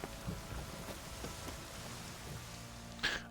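A heavy downpour falls steadily in The Witcher 3: Wild Hunt, a quiet, dense hiss of rain with scattered soft drops and low rumbling, and a brief sharp sound near the end. No one speaks.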